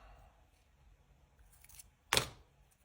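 Scissors make a single sharp snip while cutting a strip for nail art. Quiet room tone comes before it, with one crisp cut near the end.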